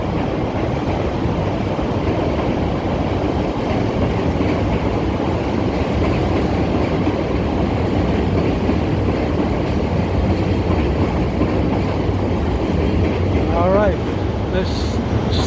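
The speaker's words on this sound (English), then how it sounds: "Here's the train." An elevated train passes on Wabash Avenue in downtown Chicago, a loud, continuous rumble and rattle of wheels on track that fills the street, with a brief screech near the end.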